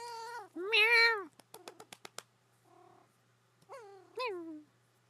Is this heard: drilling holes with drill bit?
no